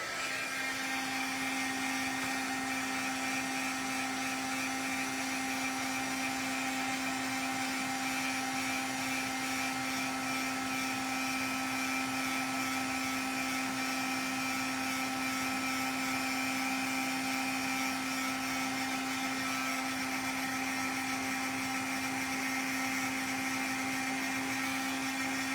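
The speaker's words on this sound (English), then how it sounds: "pardon the noise, but I'm going to turn on my heat tool real quick." Steady high-pitched whirring hum of a small embossing heat tool fan blowing continuously, loud and close, with no pauses or voices.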